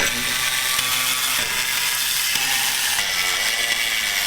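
Ratchet working bolts on the clutch pressure plate of a turbo Datsun 510 with a KA24DE engine gives a fast, continuous metallic clicking and rasping, close and steady throughout.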